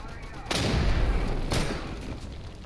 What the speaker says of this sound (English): Commence firing on my target